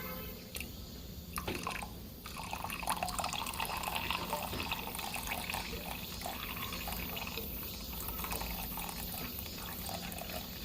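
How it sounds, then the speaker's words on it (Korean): Water poured into a vase holding green onion roots being grown hydroponically, a steady close trickling and splashing that runs continuously with faint dripping. "물이 너무 조금인 것 같아서 물을 좀 더 넣어볼게요"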